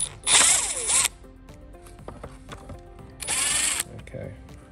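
Power drill backing out the indicator screw on a Clearview Next Gen towing mirror, two loud whirring bursts about three seconds apart, each rising then winding down, with faint clicks and handling noise between.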